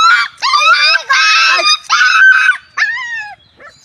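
A young puppy howls and yelps loudly in repeated high, wavering cries while being bathed in warm water, each cry breaking off briefly before the next.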